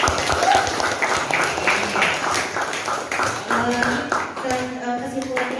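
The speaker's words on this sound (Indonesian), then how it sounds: "Kita kasih aplaus untuk Supri." Classroom audience applauding a student named Supri, a brisk burst of many hands clapping that stays close and lively, with a teacher's voice heard partway through.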